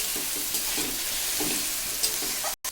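Onion, garlic and green chili frying in hot oil, with a continuous loud sizzle and a few stirring scrapes, a sudden brief dropout near the end.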